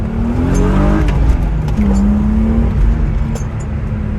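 Loud engine of an E36 car on budget coilovers droning close by on a potholed road, its pitch climbing, dipping briefly as the gear changes, then rising again under steady road noise.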